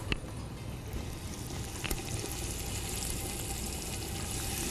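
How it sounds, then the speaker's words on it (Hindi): Water poured from a small amount into nihari masala in a cooking pan, a steady broadband wash with light sizzling throughout, a couple of faint clinks near the start. "ज़रा सा पानी डाल दूंगी मैं इसमें"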